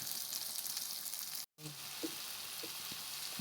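Chicken breasts searing in a pan over medium-low heat give a steady, soft sizzle, cut by a brief silent gap and a few light clinks of stirring or utensils.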